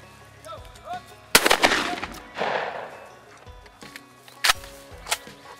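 Shotgun blasts on a quail hunt, two loud close shots about three seconds apart with softer thumps and movement between them, outdoors, mixed with people talking.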